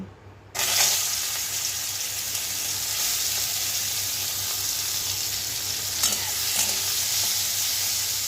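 Prawns hit hot oil and are stirred in a pan, a steady close sizzle with scraping from a spatula running throughout, preceded by a brief quiet moment before they go in.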